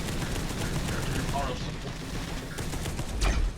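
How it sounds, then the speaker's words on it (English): Rapid bursts of heavy las cannon fire and explosions in a video game, loud and continuous, ending with a deep booming blast. "trying to dodge las cannons"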